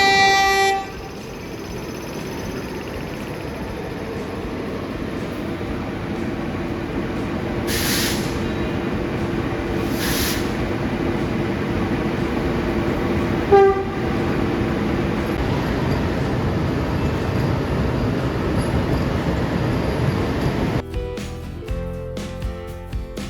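A locomotive idles at Mangalore railway station, a steady low diesel rumble filling the scene, with a couple of distant horn toots and a brief clank partway through.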